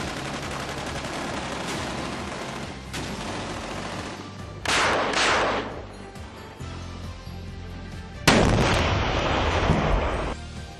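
Live-fire gunfire at a military urban terrain training village, with repeated heavy blasts and rumbling bursts that hold a dense, loud, reverberant wash throughout and sharp onsets near the middle and end, with no talking.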